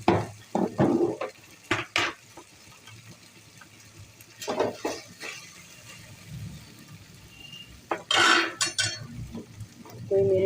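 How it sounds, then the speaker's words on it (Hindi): Food is roasted and stirred in a pan, with bursts of metal utensil scraping and clanking against the pan coming in clusters, close and fairly loud, separated by quieter stretches. "अब इसको अच्छे से भूनना है।"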